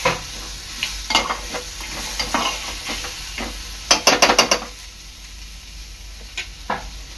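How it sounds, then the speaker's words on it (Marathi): Almonds, sesame seeds, cumin and coriander are dry-roasted together in a pan, with close, loud scraping and rattling stirs, including a quick cluster of strokes midway, over a light hiss. "बदाम, तीळ आणि जिरा आणि धणे हे एकत्र भाजून घेणार आहे।"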